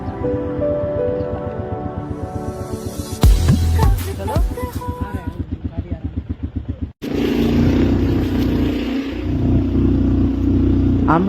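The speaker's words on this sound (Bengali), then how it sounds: "আমরা ফার্স্টেই করছি বাইক রাইডিং।" Motorbike riding in Solang Valley near Manali, a close, loud engine idling with a rhythmic pulse, then a sharp cut to a steady, rumbling engine drone as the ride continues.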